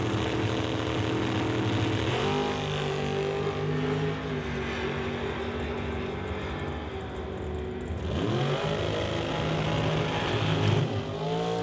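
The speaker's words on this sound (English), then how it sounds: "1999 Camaro, 408 cubic inch LS power plant under the hood" A 1999 Camaro drag car with a 408 cubic inch LS engine at a drag racing event, its engine droning steadily with two surging revs that climb in pitch, loud and continuous without talk.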